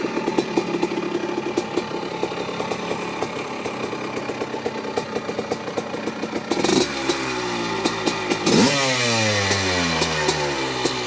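A Honda CR250 Elsinore dirt bike, kitted with Moto-X Fox parts, runs close by with a rough, crackling two-stroke idle, then revs up sharply twice, the pitch climbing and falling with each blip of the throttle.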